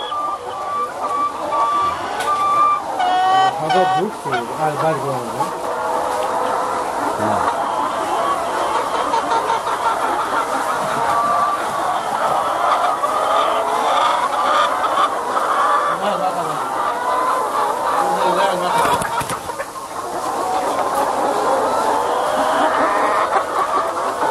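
Many laying hens cluck and chatter continuously in a large egg poultry farm, a dense, steady chorus of overlapping calls filling the space at close range with no clear pauses.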